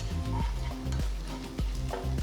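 Chopped onions sautéing in a pan with slit green chillies and fresh curry leaves: close, rhythmic stirring and scraping strokes over a low sizzle, with no talking.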